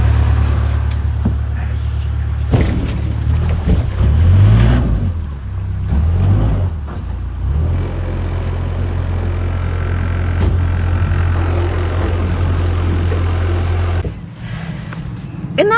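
A 49-foot narrowboat's diesel engine chugs steadily and close while the boat is manoeuvred on the Llangollen canal, with its pitch and loudness shifting as power changes, and brief clatters and knocks breaking in toward the end.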